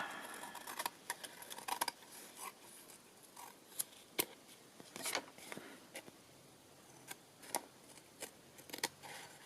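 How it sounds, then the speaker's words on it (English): Scissors trimming the edges of glued paper in a craft session, a string of quiet, irregular snips and rustles close by, with gaps between cuts. "Trim off the edges."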